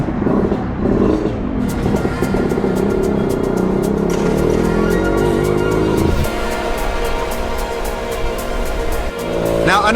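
A small motorbike with a 3.5 litre tank ridden along a rural road in Thailand, a continuous close engine drone with wind rush and shifting pitch as it moves.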